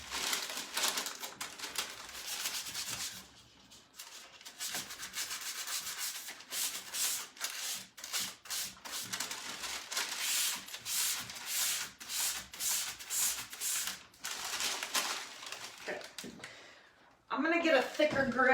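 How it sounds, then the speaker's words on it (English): Steady rasping of a sanding block scrubbed back and forth over an antique wooden secretary desk, close by and continuous, pausing briefly before resuming. "I'm gonna get a thicker grit sanding block."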